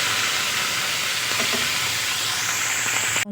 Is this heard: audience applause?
no